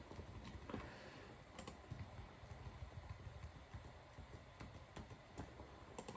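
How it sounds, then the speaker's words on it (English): Fast, faint clicking of computer keyboard keys in irregular bursts, set against a steady hiss of room noise with no voices. "I'm going to type it out."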